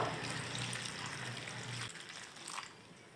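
Water is poured into a cooking pot of chopped taro flowers set to boil, a steady close gush that stops abruptly partway through, leaving a fainter wet trickle.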